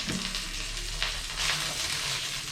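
Chopped onion sizzling in a hot frying pan, a steady broadband crackle and hiss running evenly throughout with small spits and pops, close and fairly loud, with no talking.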